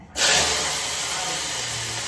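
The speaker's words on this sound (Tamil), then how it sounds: "கடுகு நல்லா பொரிஞ்சிடுச்சு அது கூட வந்து கருவேப்பிலை பூண்டு சாம்பார் வெங்காயம் போட போறாங்க" Mustard seeds, curry leaves, garlic and sambar onions hit hot oil in a tempering, bursting into a sudden loud, steady hiss that holds evenly to the end.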